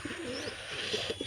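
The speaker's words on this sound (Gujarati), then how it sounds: "જોઈ શકો જો મિત્રો આ કબૂતર આવી ગયું છે." Pigeons cooing close by, soft rolling throaty coos over a constant airy background hiss, brief and unbroken.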